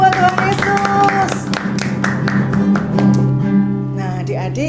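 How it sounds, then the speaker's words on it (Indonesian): A church congregation claps hands along with music during a children's worship service, a steady rhythmic patter of claps running under sung tones and voices throughout. "Tepuk tangan buat Tuhan Yesus."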